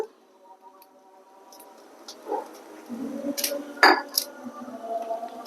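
A pan is set on a stove burner and oil poured in while cooking a spiced beef bhuna, heard as faint scattered metallic clinks and clatter that grow louder in a brief cluster near the end.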